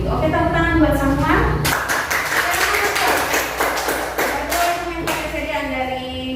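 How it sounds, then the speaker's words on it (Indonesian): A school class claps their hands together in a short burst of sharp, uneven claps from several people in a room, with a voice speaking before and after. "Oke, tepuk tangan buat semua."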